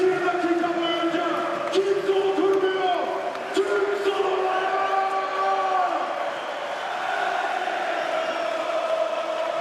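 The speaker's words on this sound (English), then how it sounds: "just listen to the support they're receiving from the Fenerbahçe faithful here" Fenerbahçe basketball fans fill the Ulker Sports and Event Hall in Istanbul with a sustained crowd roar and chanting, loud and continuous, with sneaker squeaks and whistles cutting through now and then.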